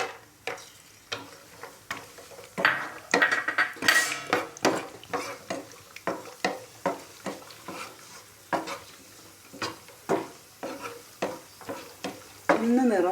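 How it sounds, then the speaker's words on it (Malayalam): Cashew nuts fry in oil in a pan while a mutton biryani is being made. A metal spoon clinks and scrapes against the pan in a steady run of taps over a soft sizzle, with no talking. "ഈ എണ്ണയിലേക്ക് അണ്ടിപ്പരിപ്പ് ഇടുകയാണ്."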